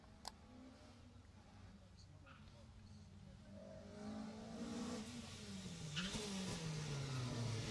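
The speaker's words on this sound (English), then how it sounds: "Dick Major coming through, car 54." Rally car on a Jersey rally stage in 2018, its engine note rising and revving as it approaches and passes, growing louder toward the end, with a commentator talking over it.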